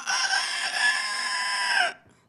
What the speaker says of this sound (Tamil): இப்போ வந்து கோழி வந்து என்ன பேசிக்கும் அப்படிங்கிற சின்ன கான்செப்ட்.